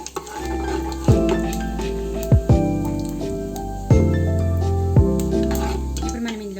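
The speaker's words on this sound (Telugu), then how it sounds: "అదేవిధంగా 1 స్పూన్ సోంపు వేసుకోవాలి. ఇది కొద్దిగా ఫ్రై చేసుకోవాలి." Cumin and fennel seeds fry in oil in a pan while Andhra-style chicken biryani is prepared. A soft sizzle sits under a steady tonal hum, with several sharp knocks and stirring sounds spaced a second or two apart.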